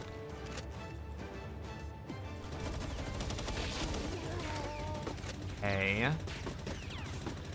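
Gunfire in the video game Palworld, a burst of shots aimed at an enemy, mixed among busy game sounds and music while someone talks over it.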